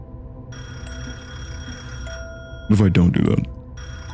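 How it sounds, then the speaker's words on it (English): A telephone rings inside a horror video game, a steady electronic trill that sounds through most of the clip beneath a low game-music drone, cut off near the end by a burst of close speech. "The phone is ringing."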